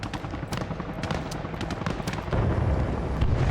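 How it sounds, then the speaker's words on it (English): Mortar fire booms in the video game Arma Reforger, a rapid run of explosive thuds and cracks over a steady low rumble that grows heavier and denser toward the end. "Mortars going off"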